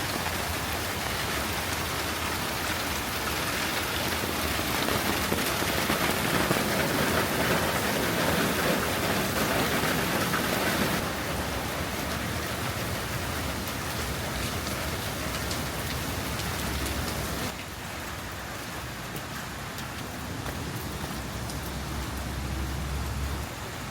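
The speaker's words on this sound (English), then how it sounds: "It's raining quite a bit, so I'm just trying to keep me and my camera pretty dry." Heavy rain falls steadily at a campsite in Australia, a dense continuous hiss of drops on surfaces that stays loud throughout and eases only slightly toward the end.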